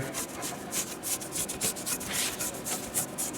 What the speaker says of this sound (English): the final is take some brake cleaner on a rag